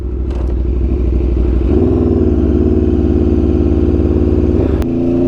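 An Aprilia RSV4 1100 Factory sport bike engine runs close and loud with a dense, steady drone. Its pitch steps up partway through, then drops after a sharp click near the end.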